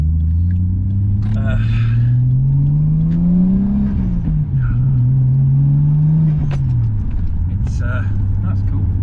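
A Mitsubishi Starion's engine rumbles close and loud, rising through a rev, dipping, then climbing again before settling, with someone talking intermittently over the drone.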